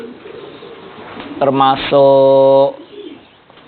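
A Tinggian Tomprang racing pigeon coos loudly and close, a rising note and then a long, sustained throaty coo, with someone briefly talking just before it.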